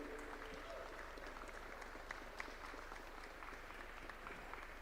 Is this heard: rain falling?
no